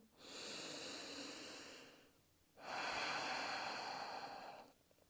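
Two slow, deep breaths during a morning yoga flow, each a long airy exhale of about two seconds separated by a brief pause, close and soft with no talking.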